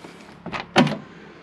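Door of a 1957 Chevrolet 210 sedan, unrestored original: two quick mechanical clunks about a third of a second apart, the second louder, close by against a quiet background with no talk.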